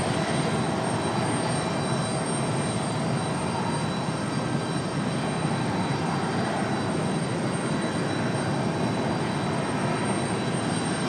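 A brand-new Aer Lingus Airbus A321XLR jet on approach, inbound from Dublin, produces a steady, loud broadband engine roar that holds unbroken throughout, with no voices.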